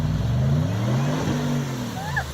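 Supercharged first-generation Ford Raptor truck engine droning and revving as it drives through a giant mud puddle, a steady low growl rising slightly, with someone talking over it.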